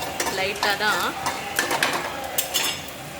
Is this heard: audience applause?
no